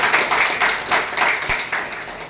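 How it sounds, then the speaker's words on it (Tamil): Audience at a telecalling training session applauding, a steady burst of crowd clapping filling the short moment at moderate loudness with no voices over it. "ஒரு கைத்தட்டல் திருப்பி கொடுங்க பார்ப்போம்."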